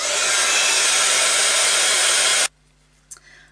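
A heat tool blasts hot air to dry a freshly worked scrapbook page, a loud steady broadband roar that cuts off abruptly, followed by a faint clatter in the quiet afterward.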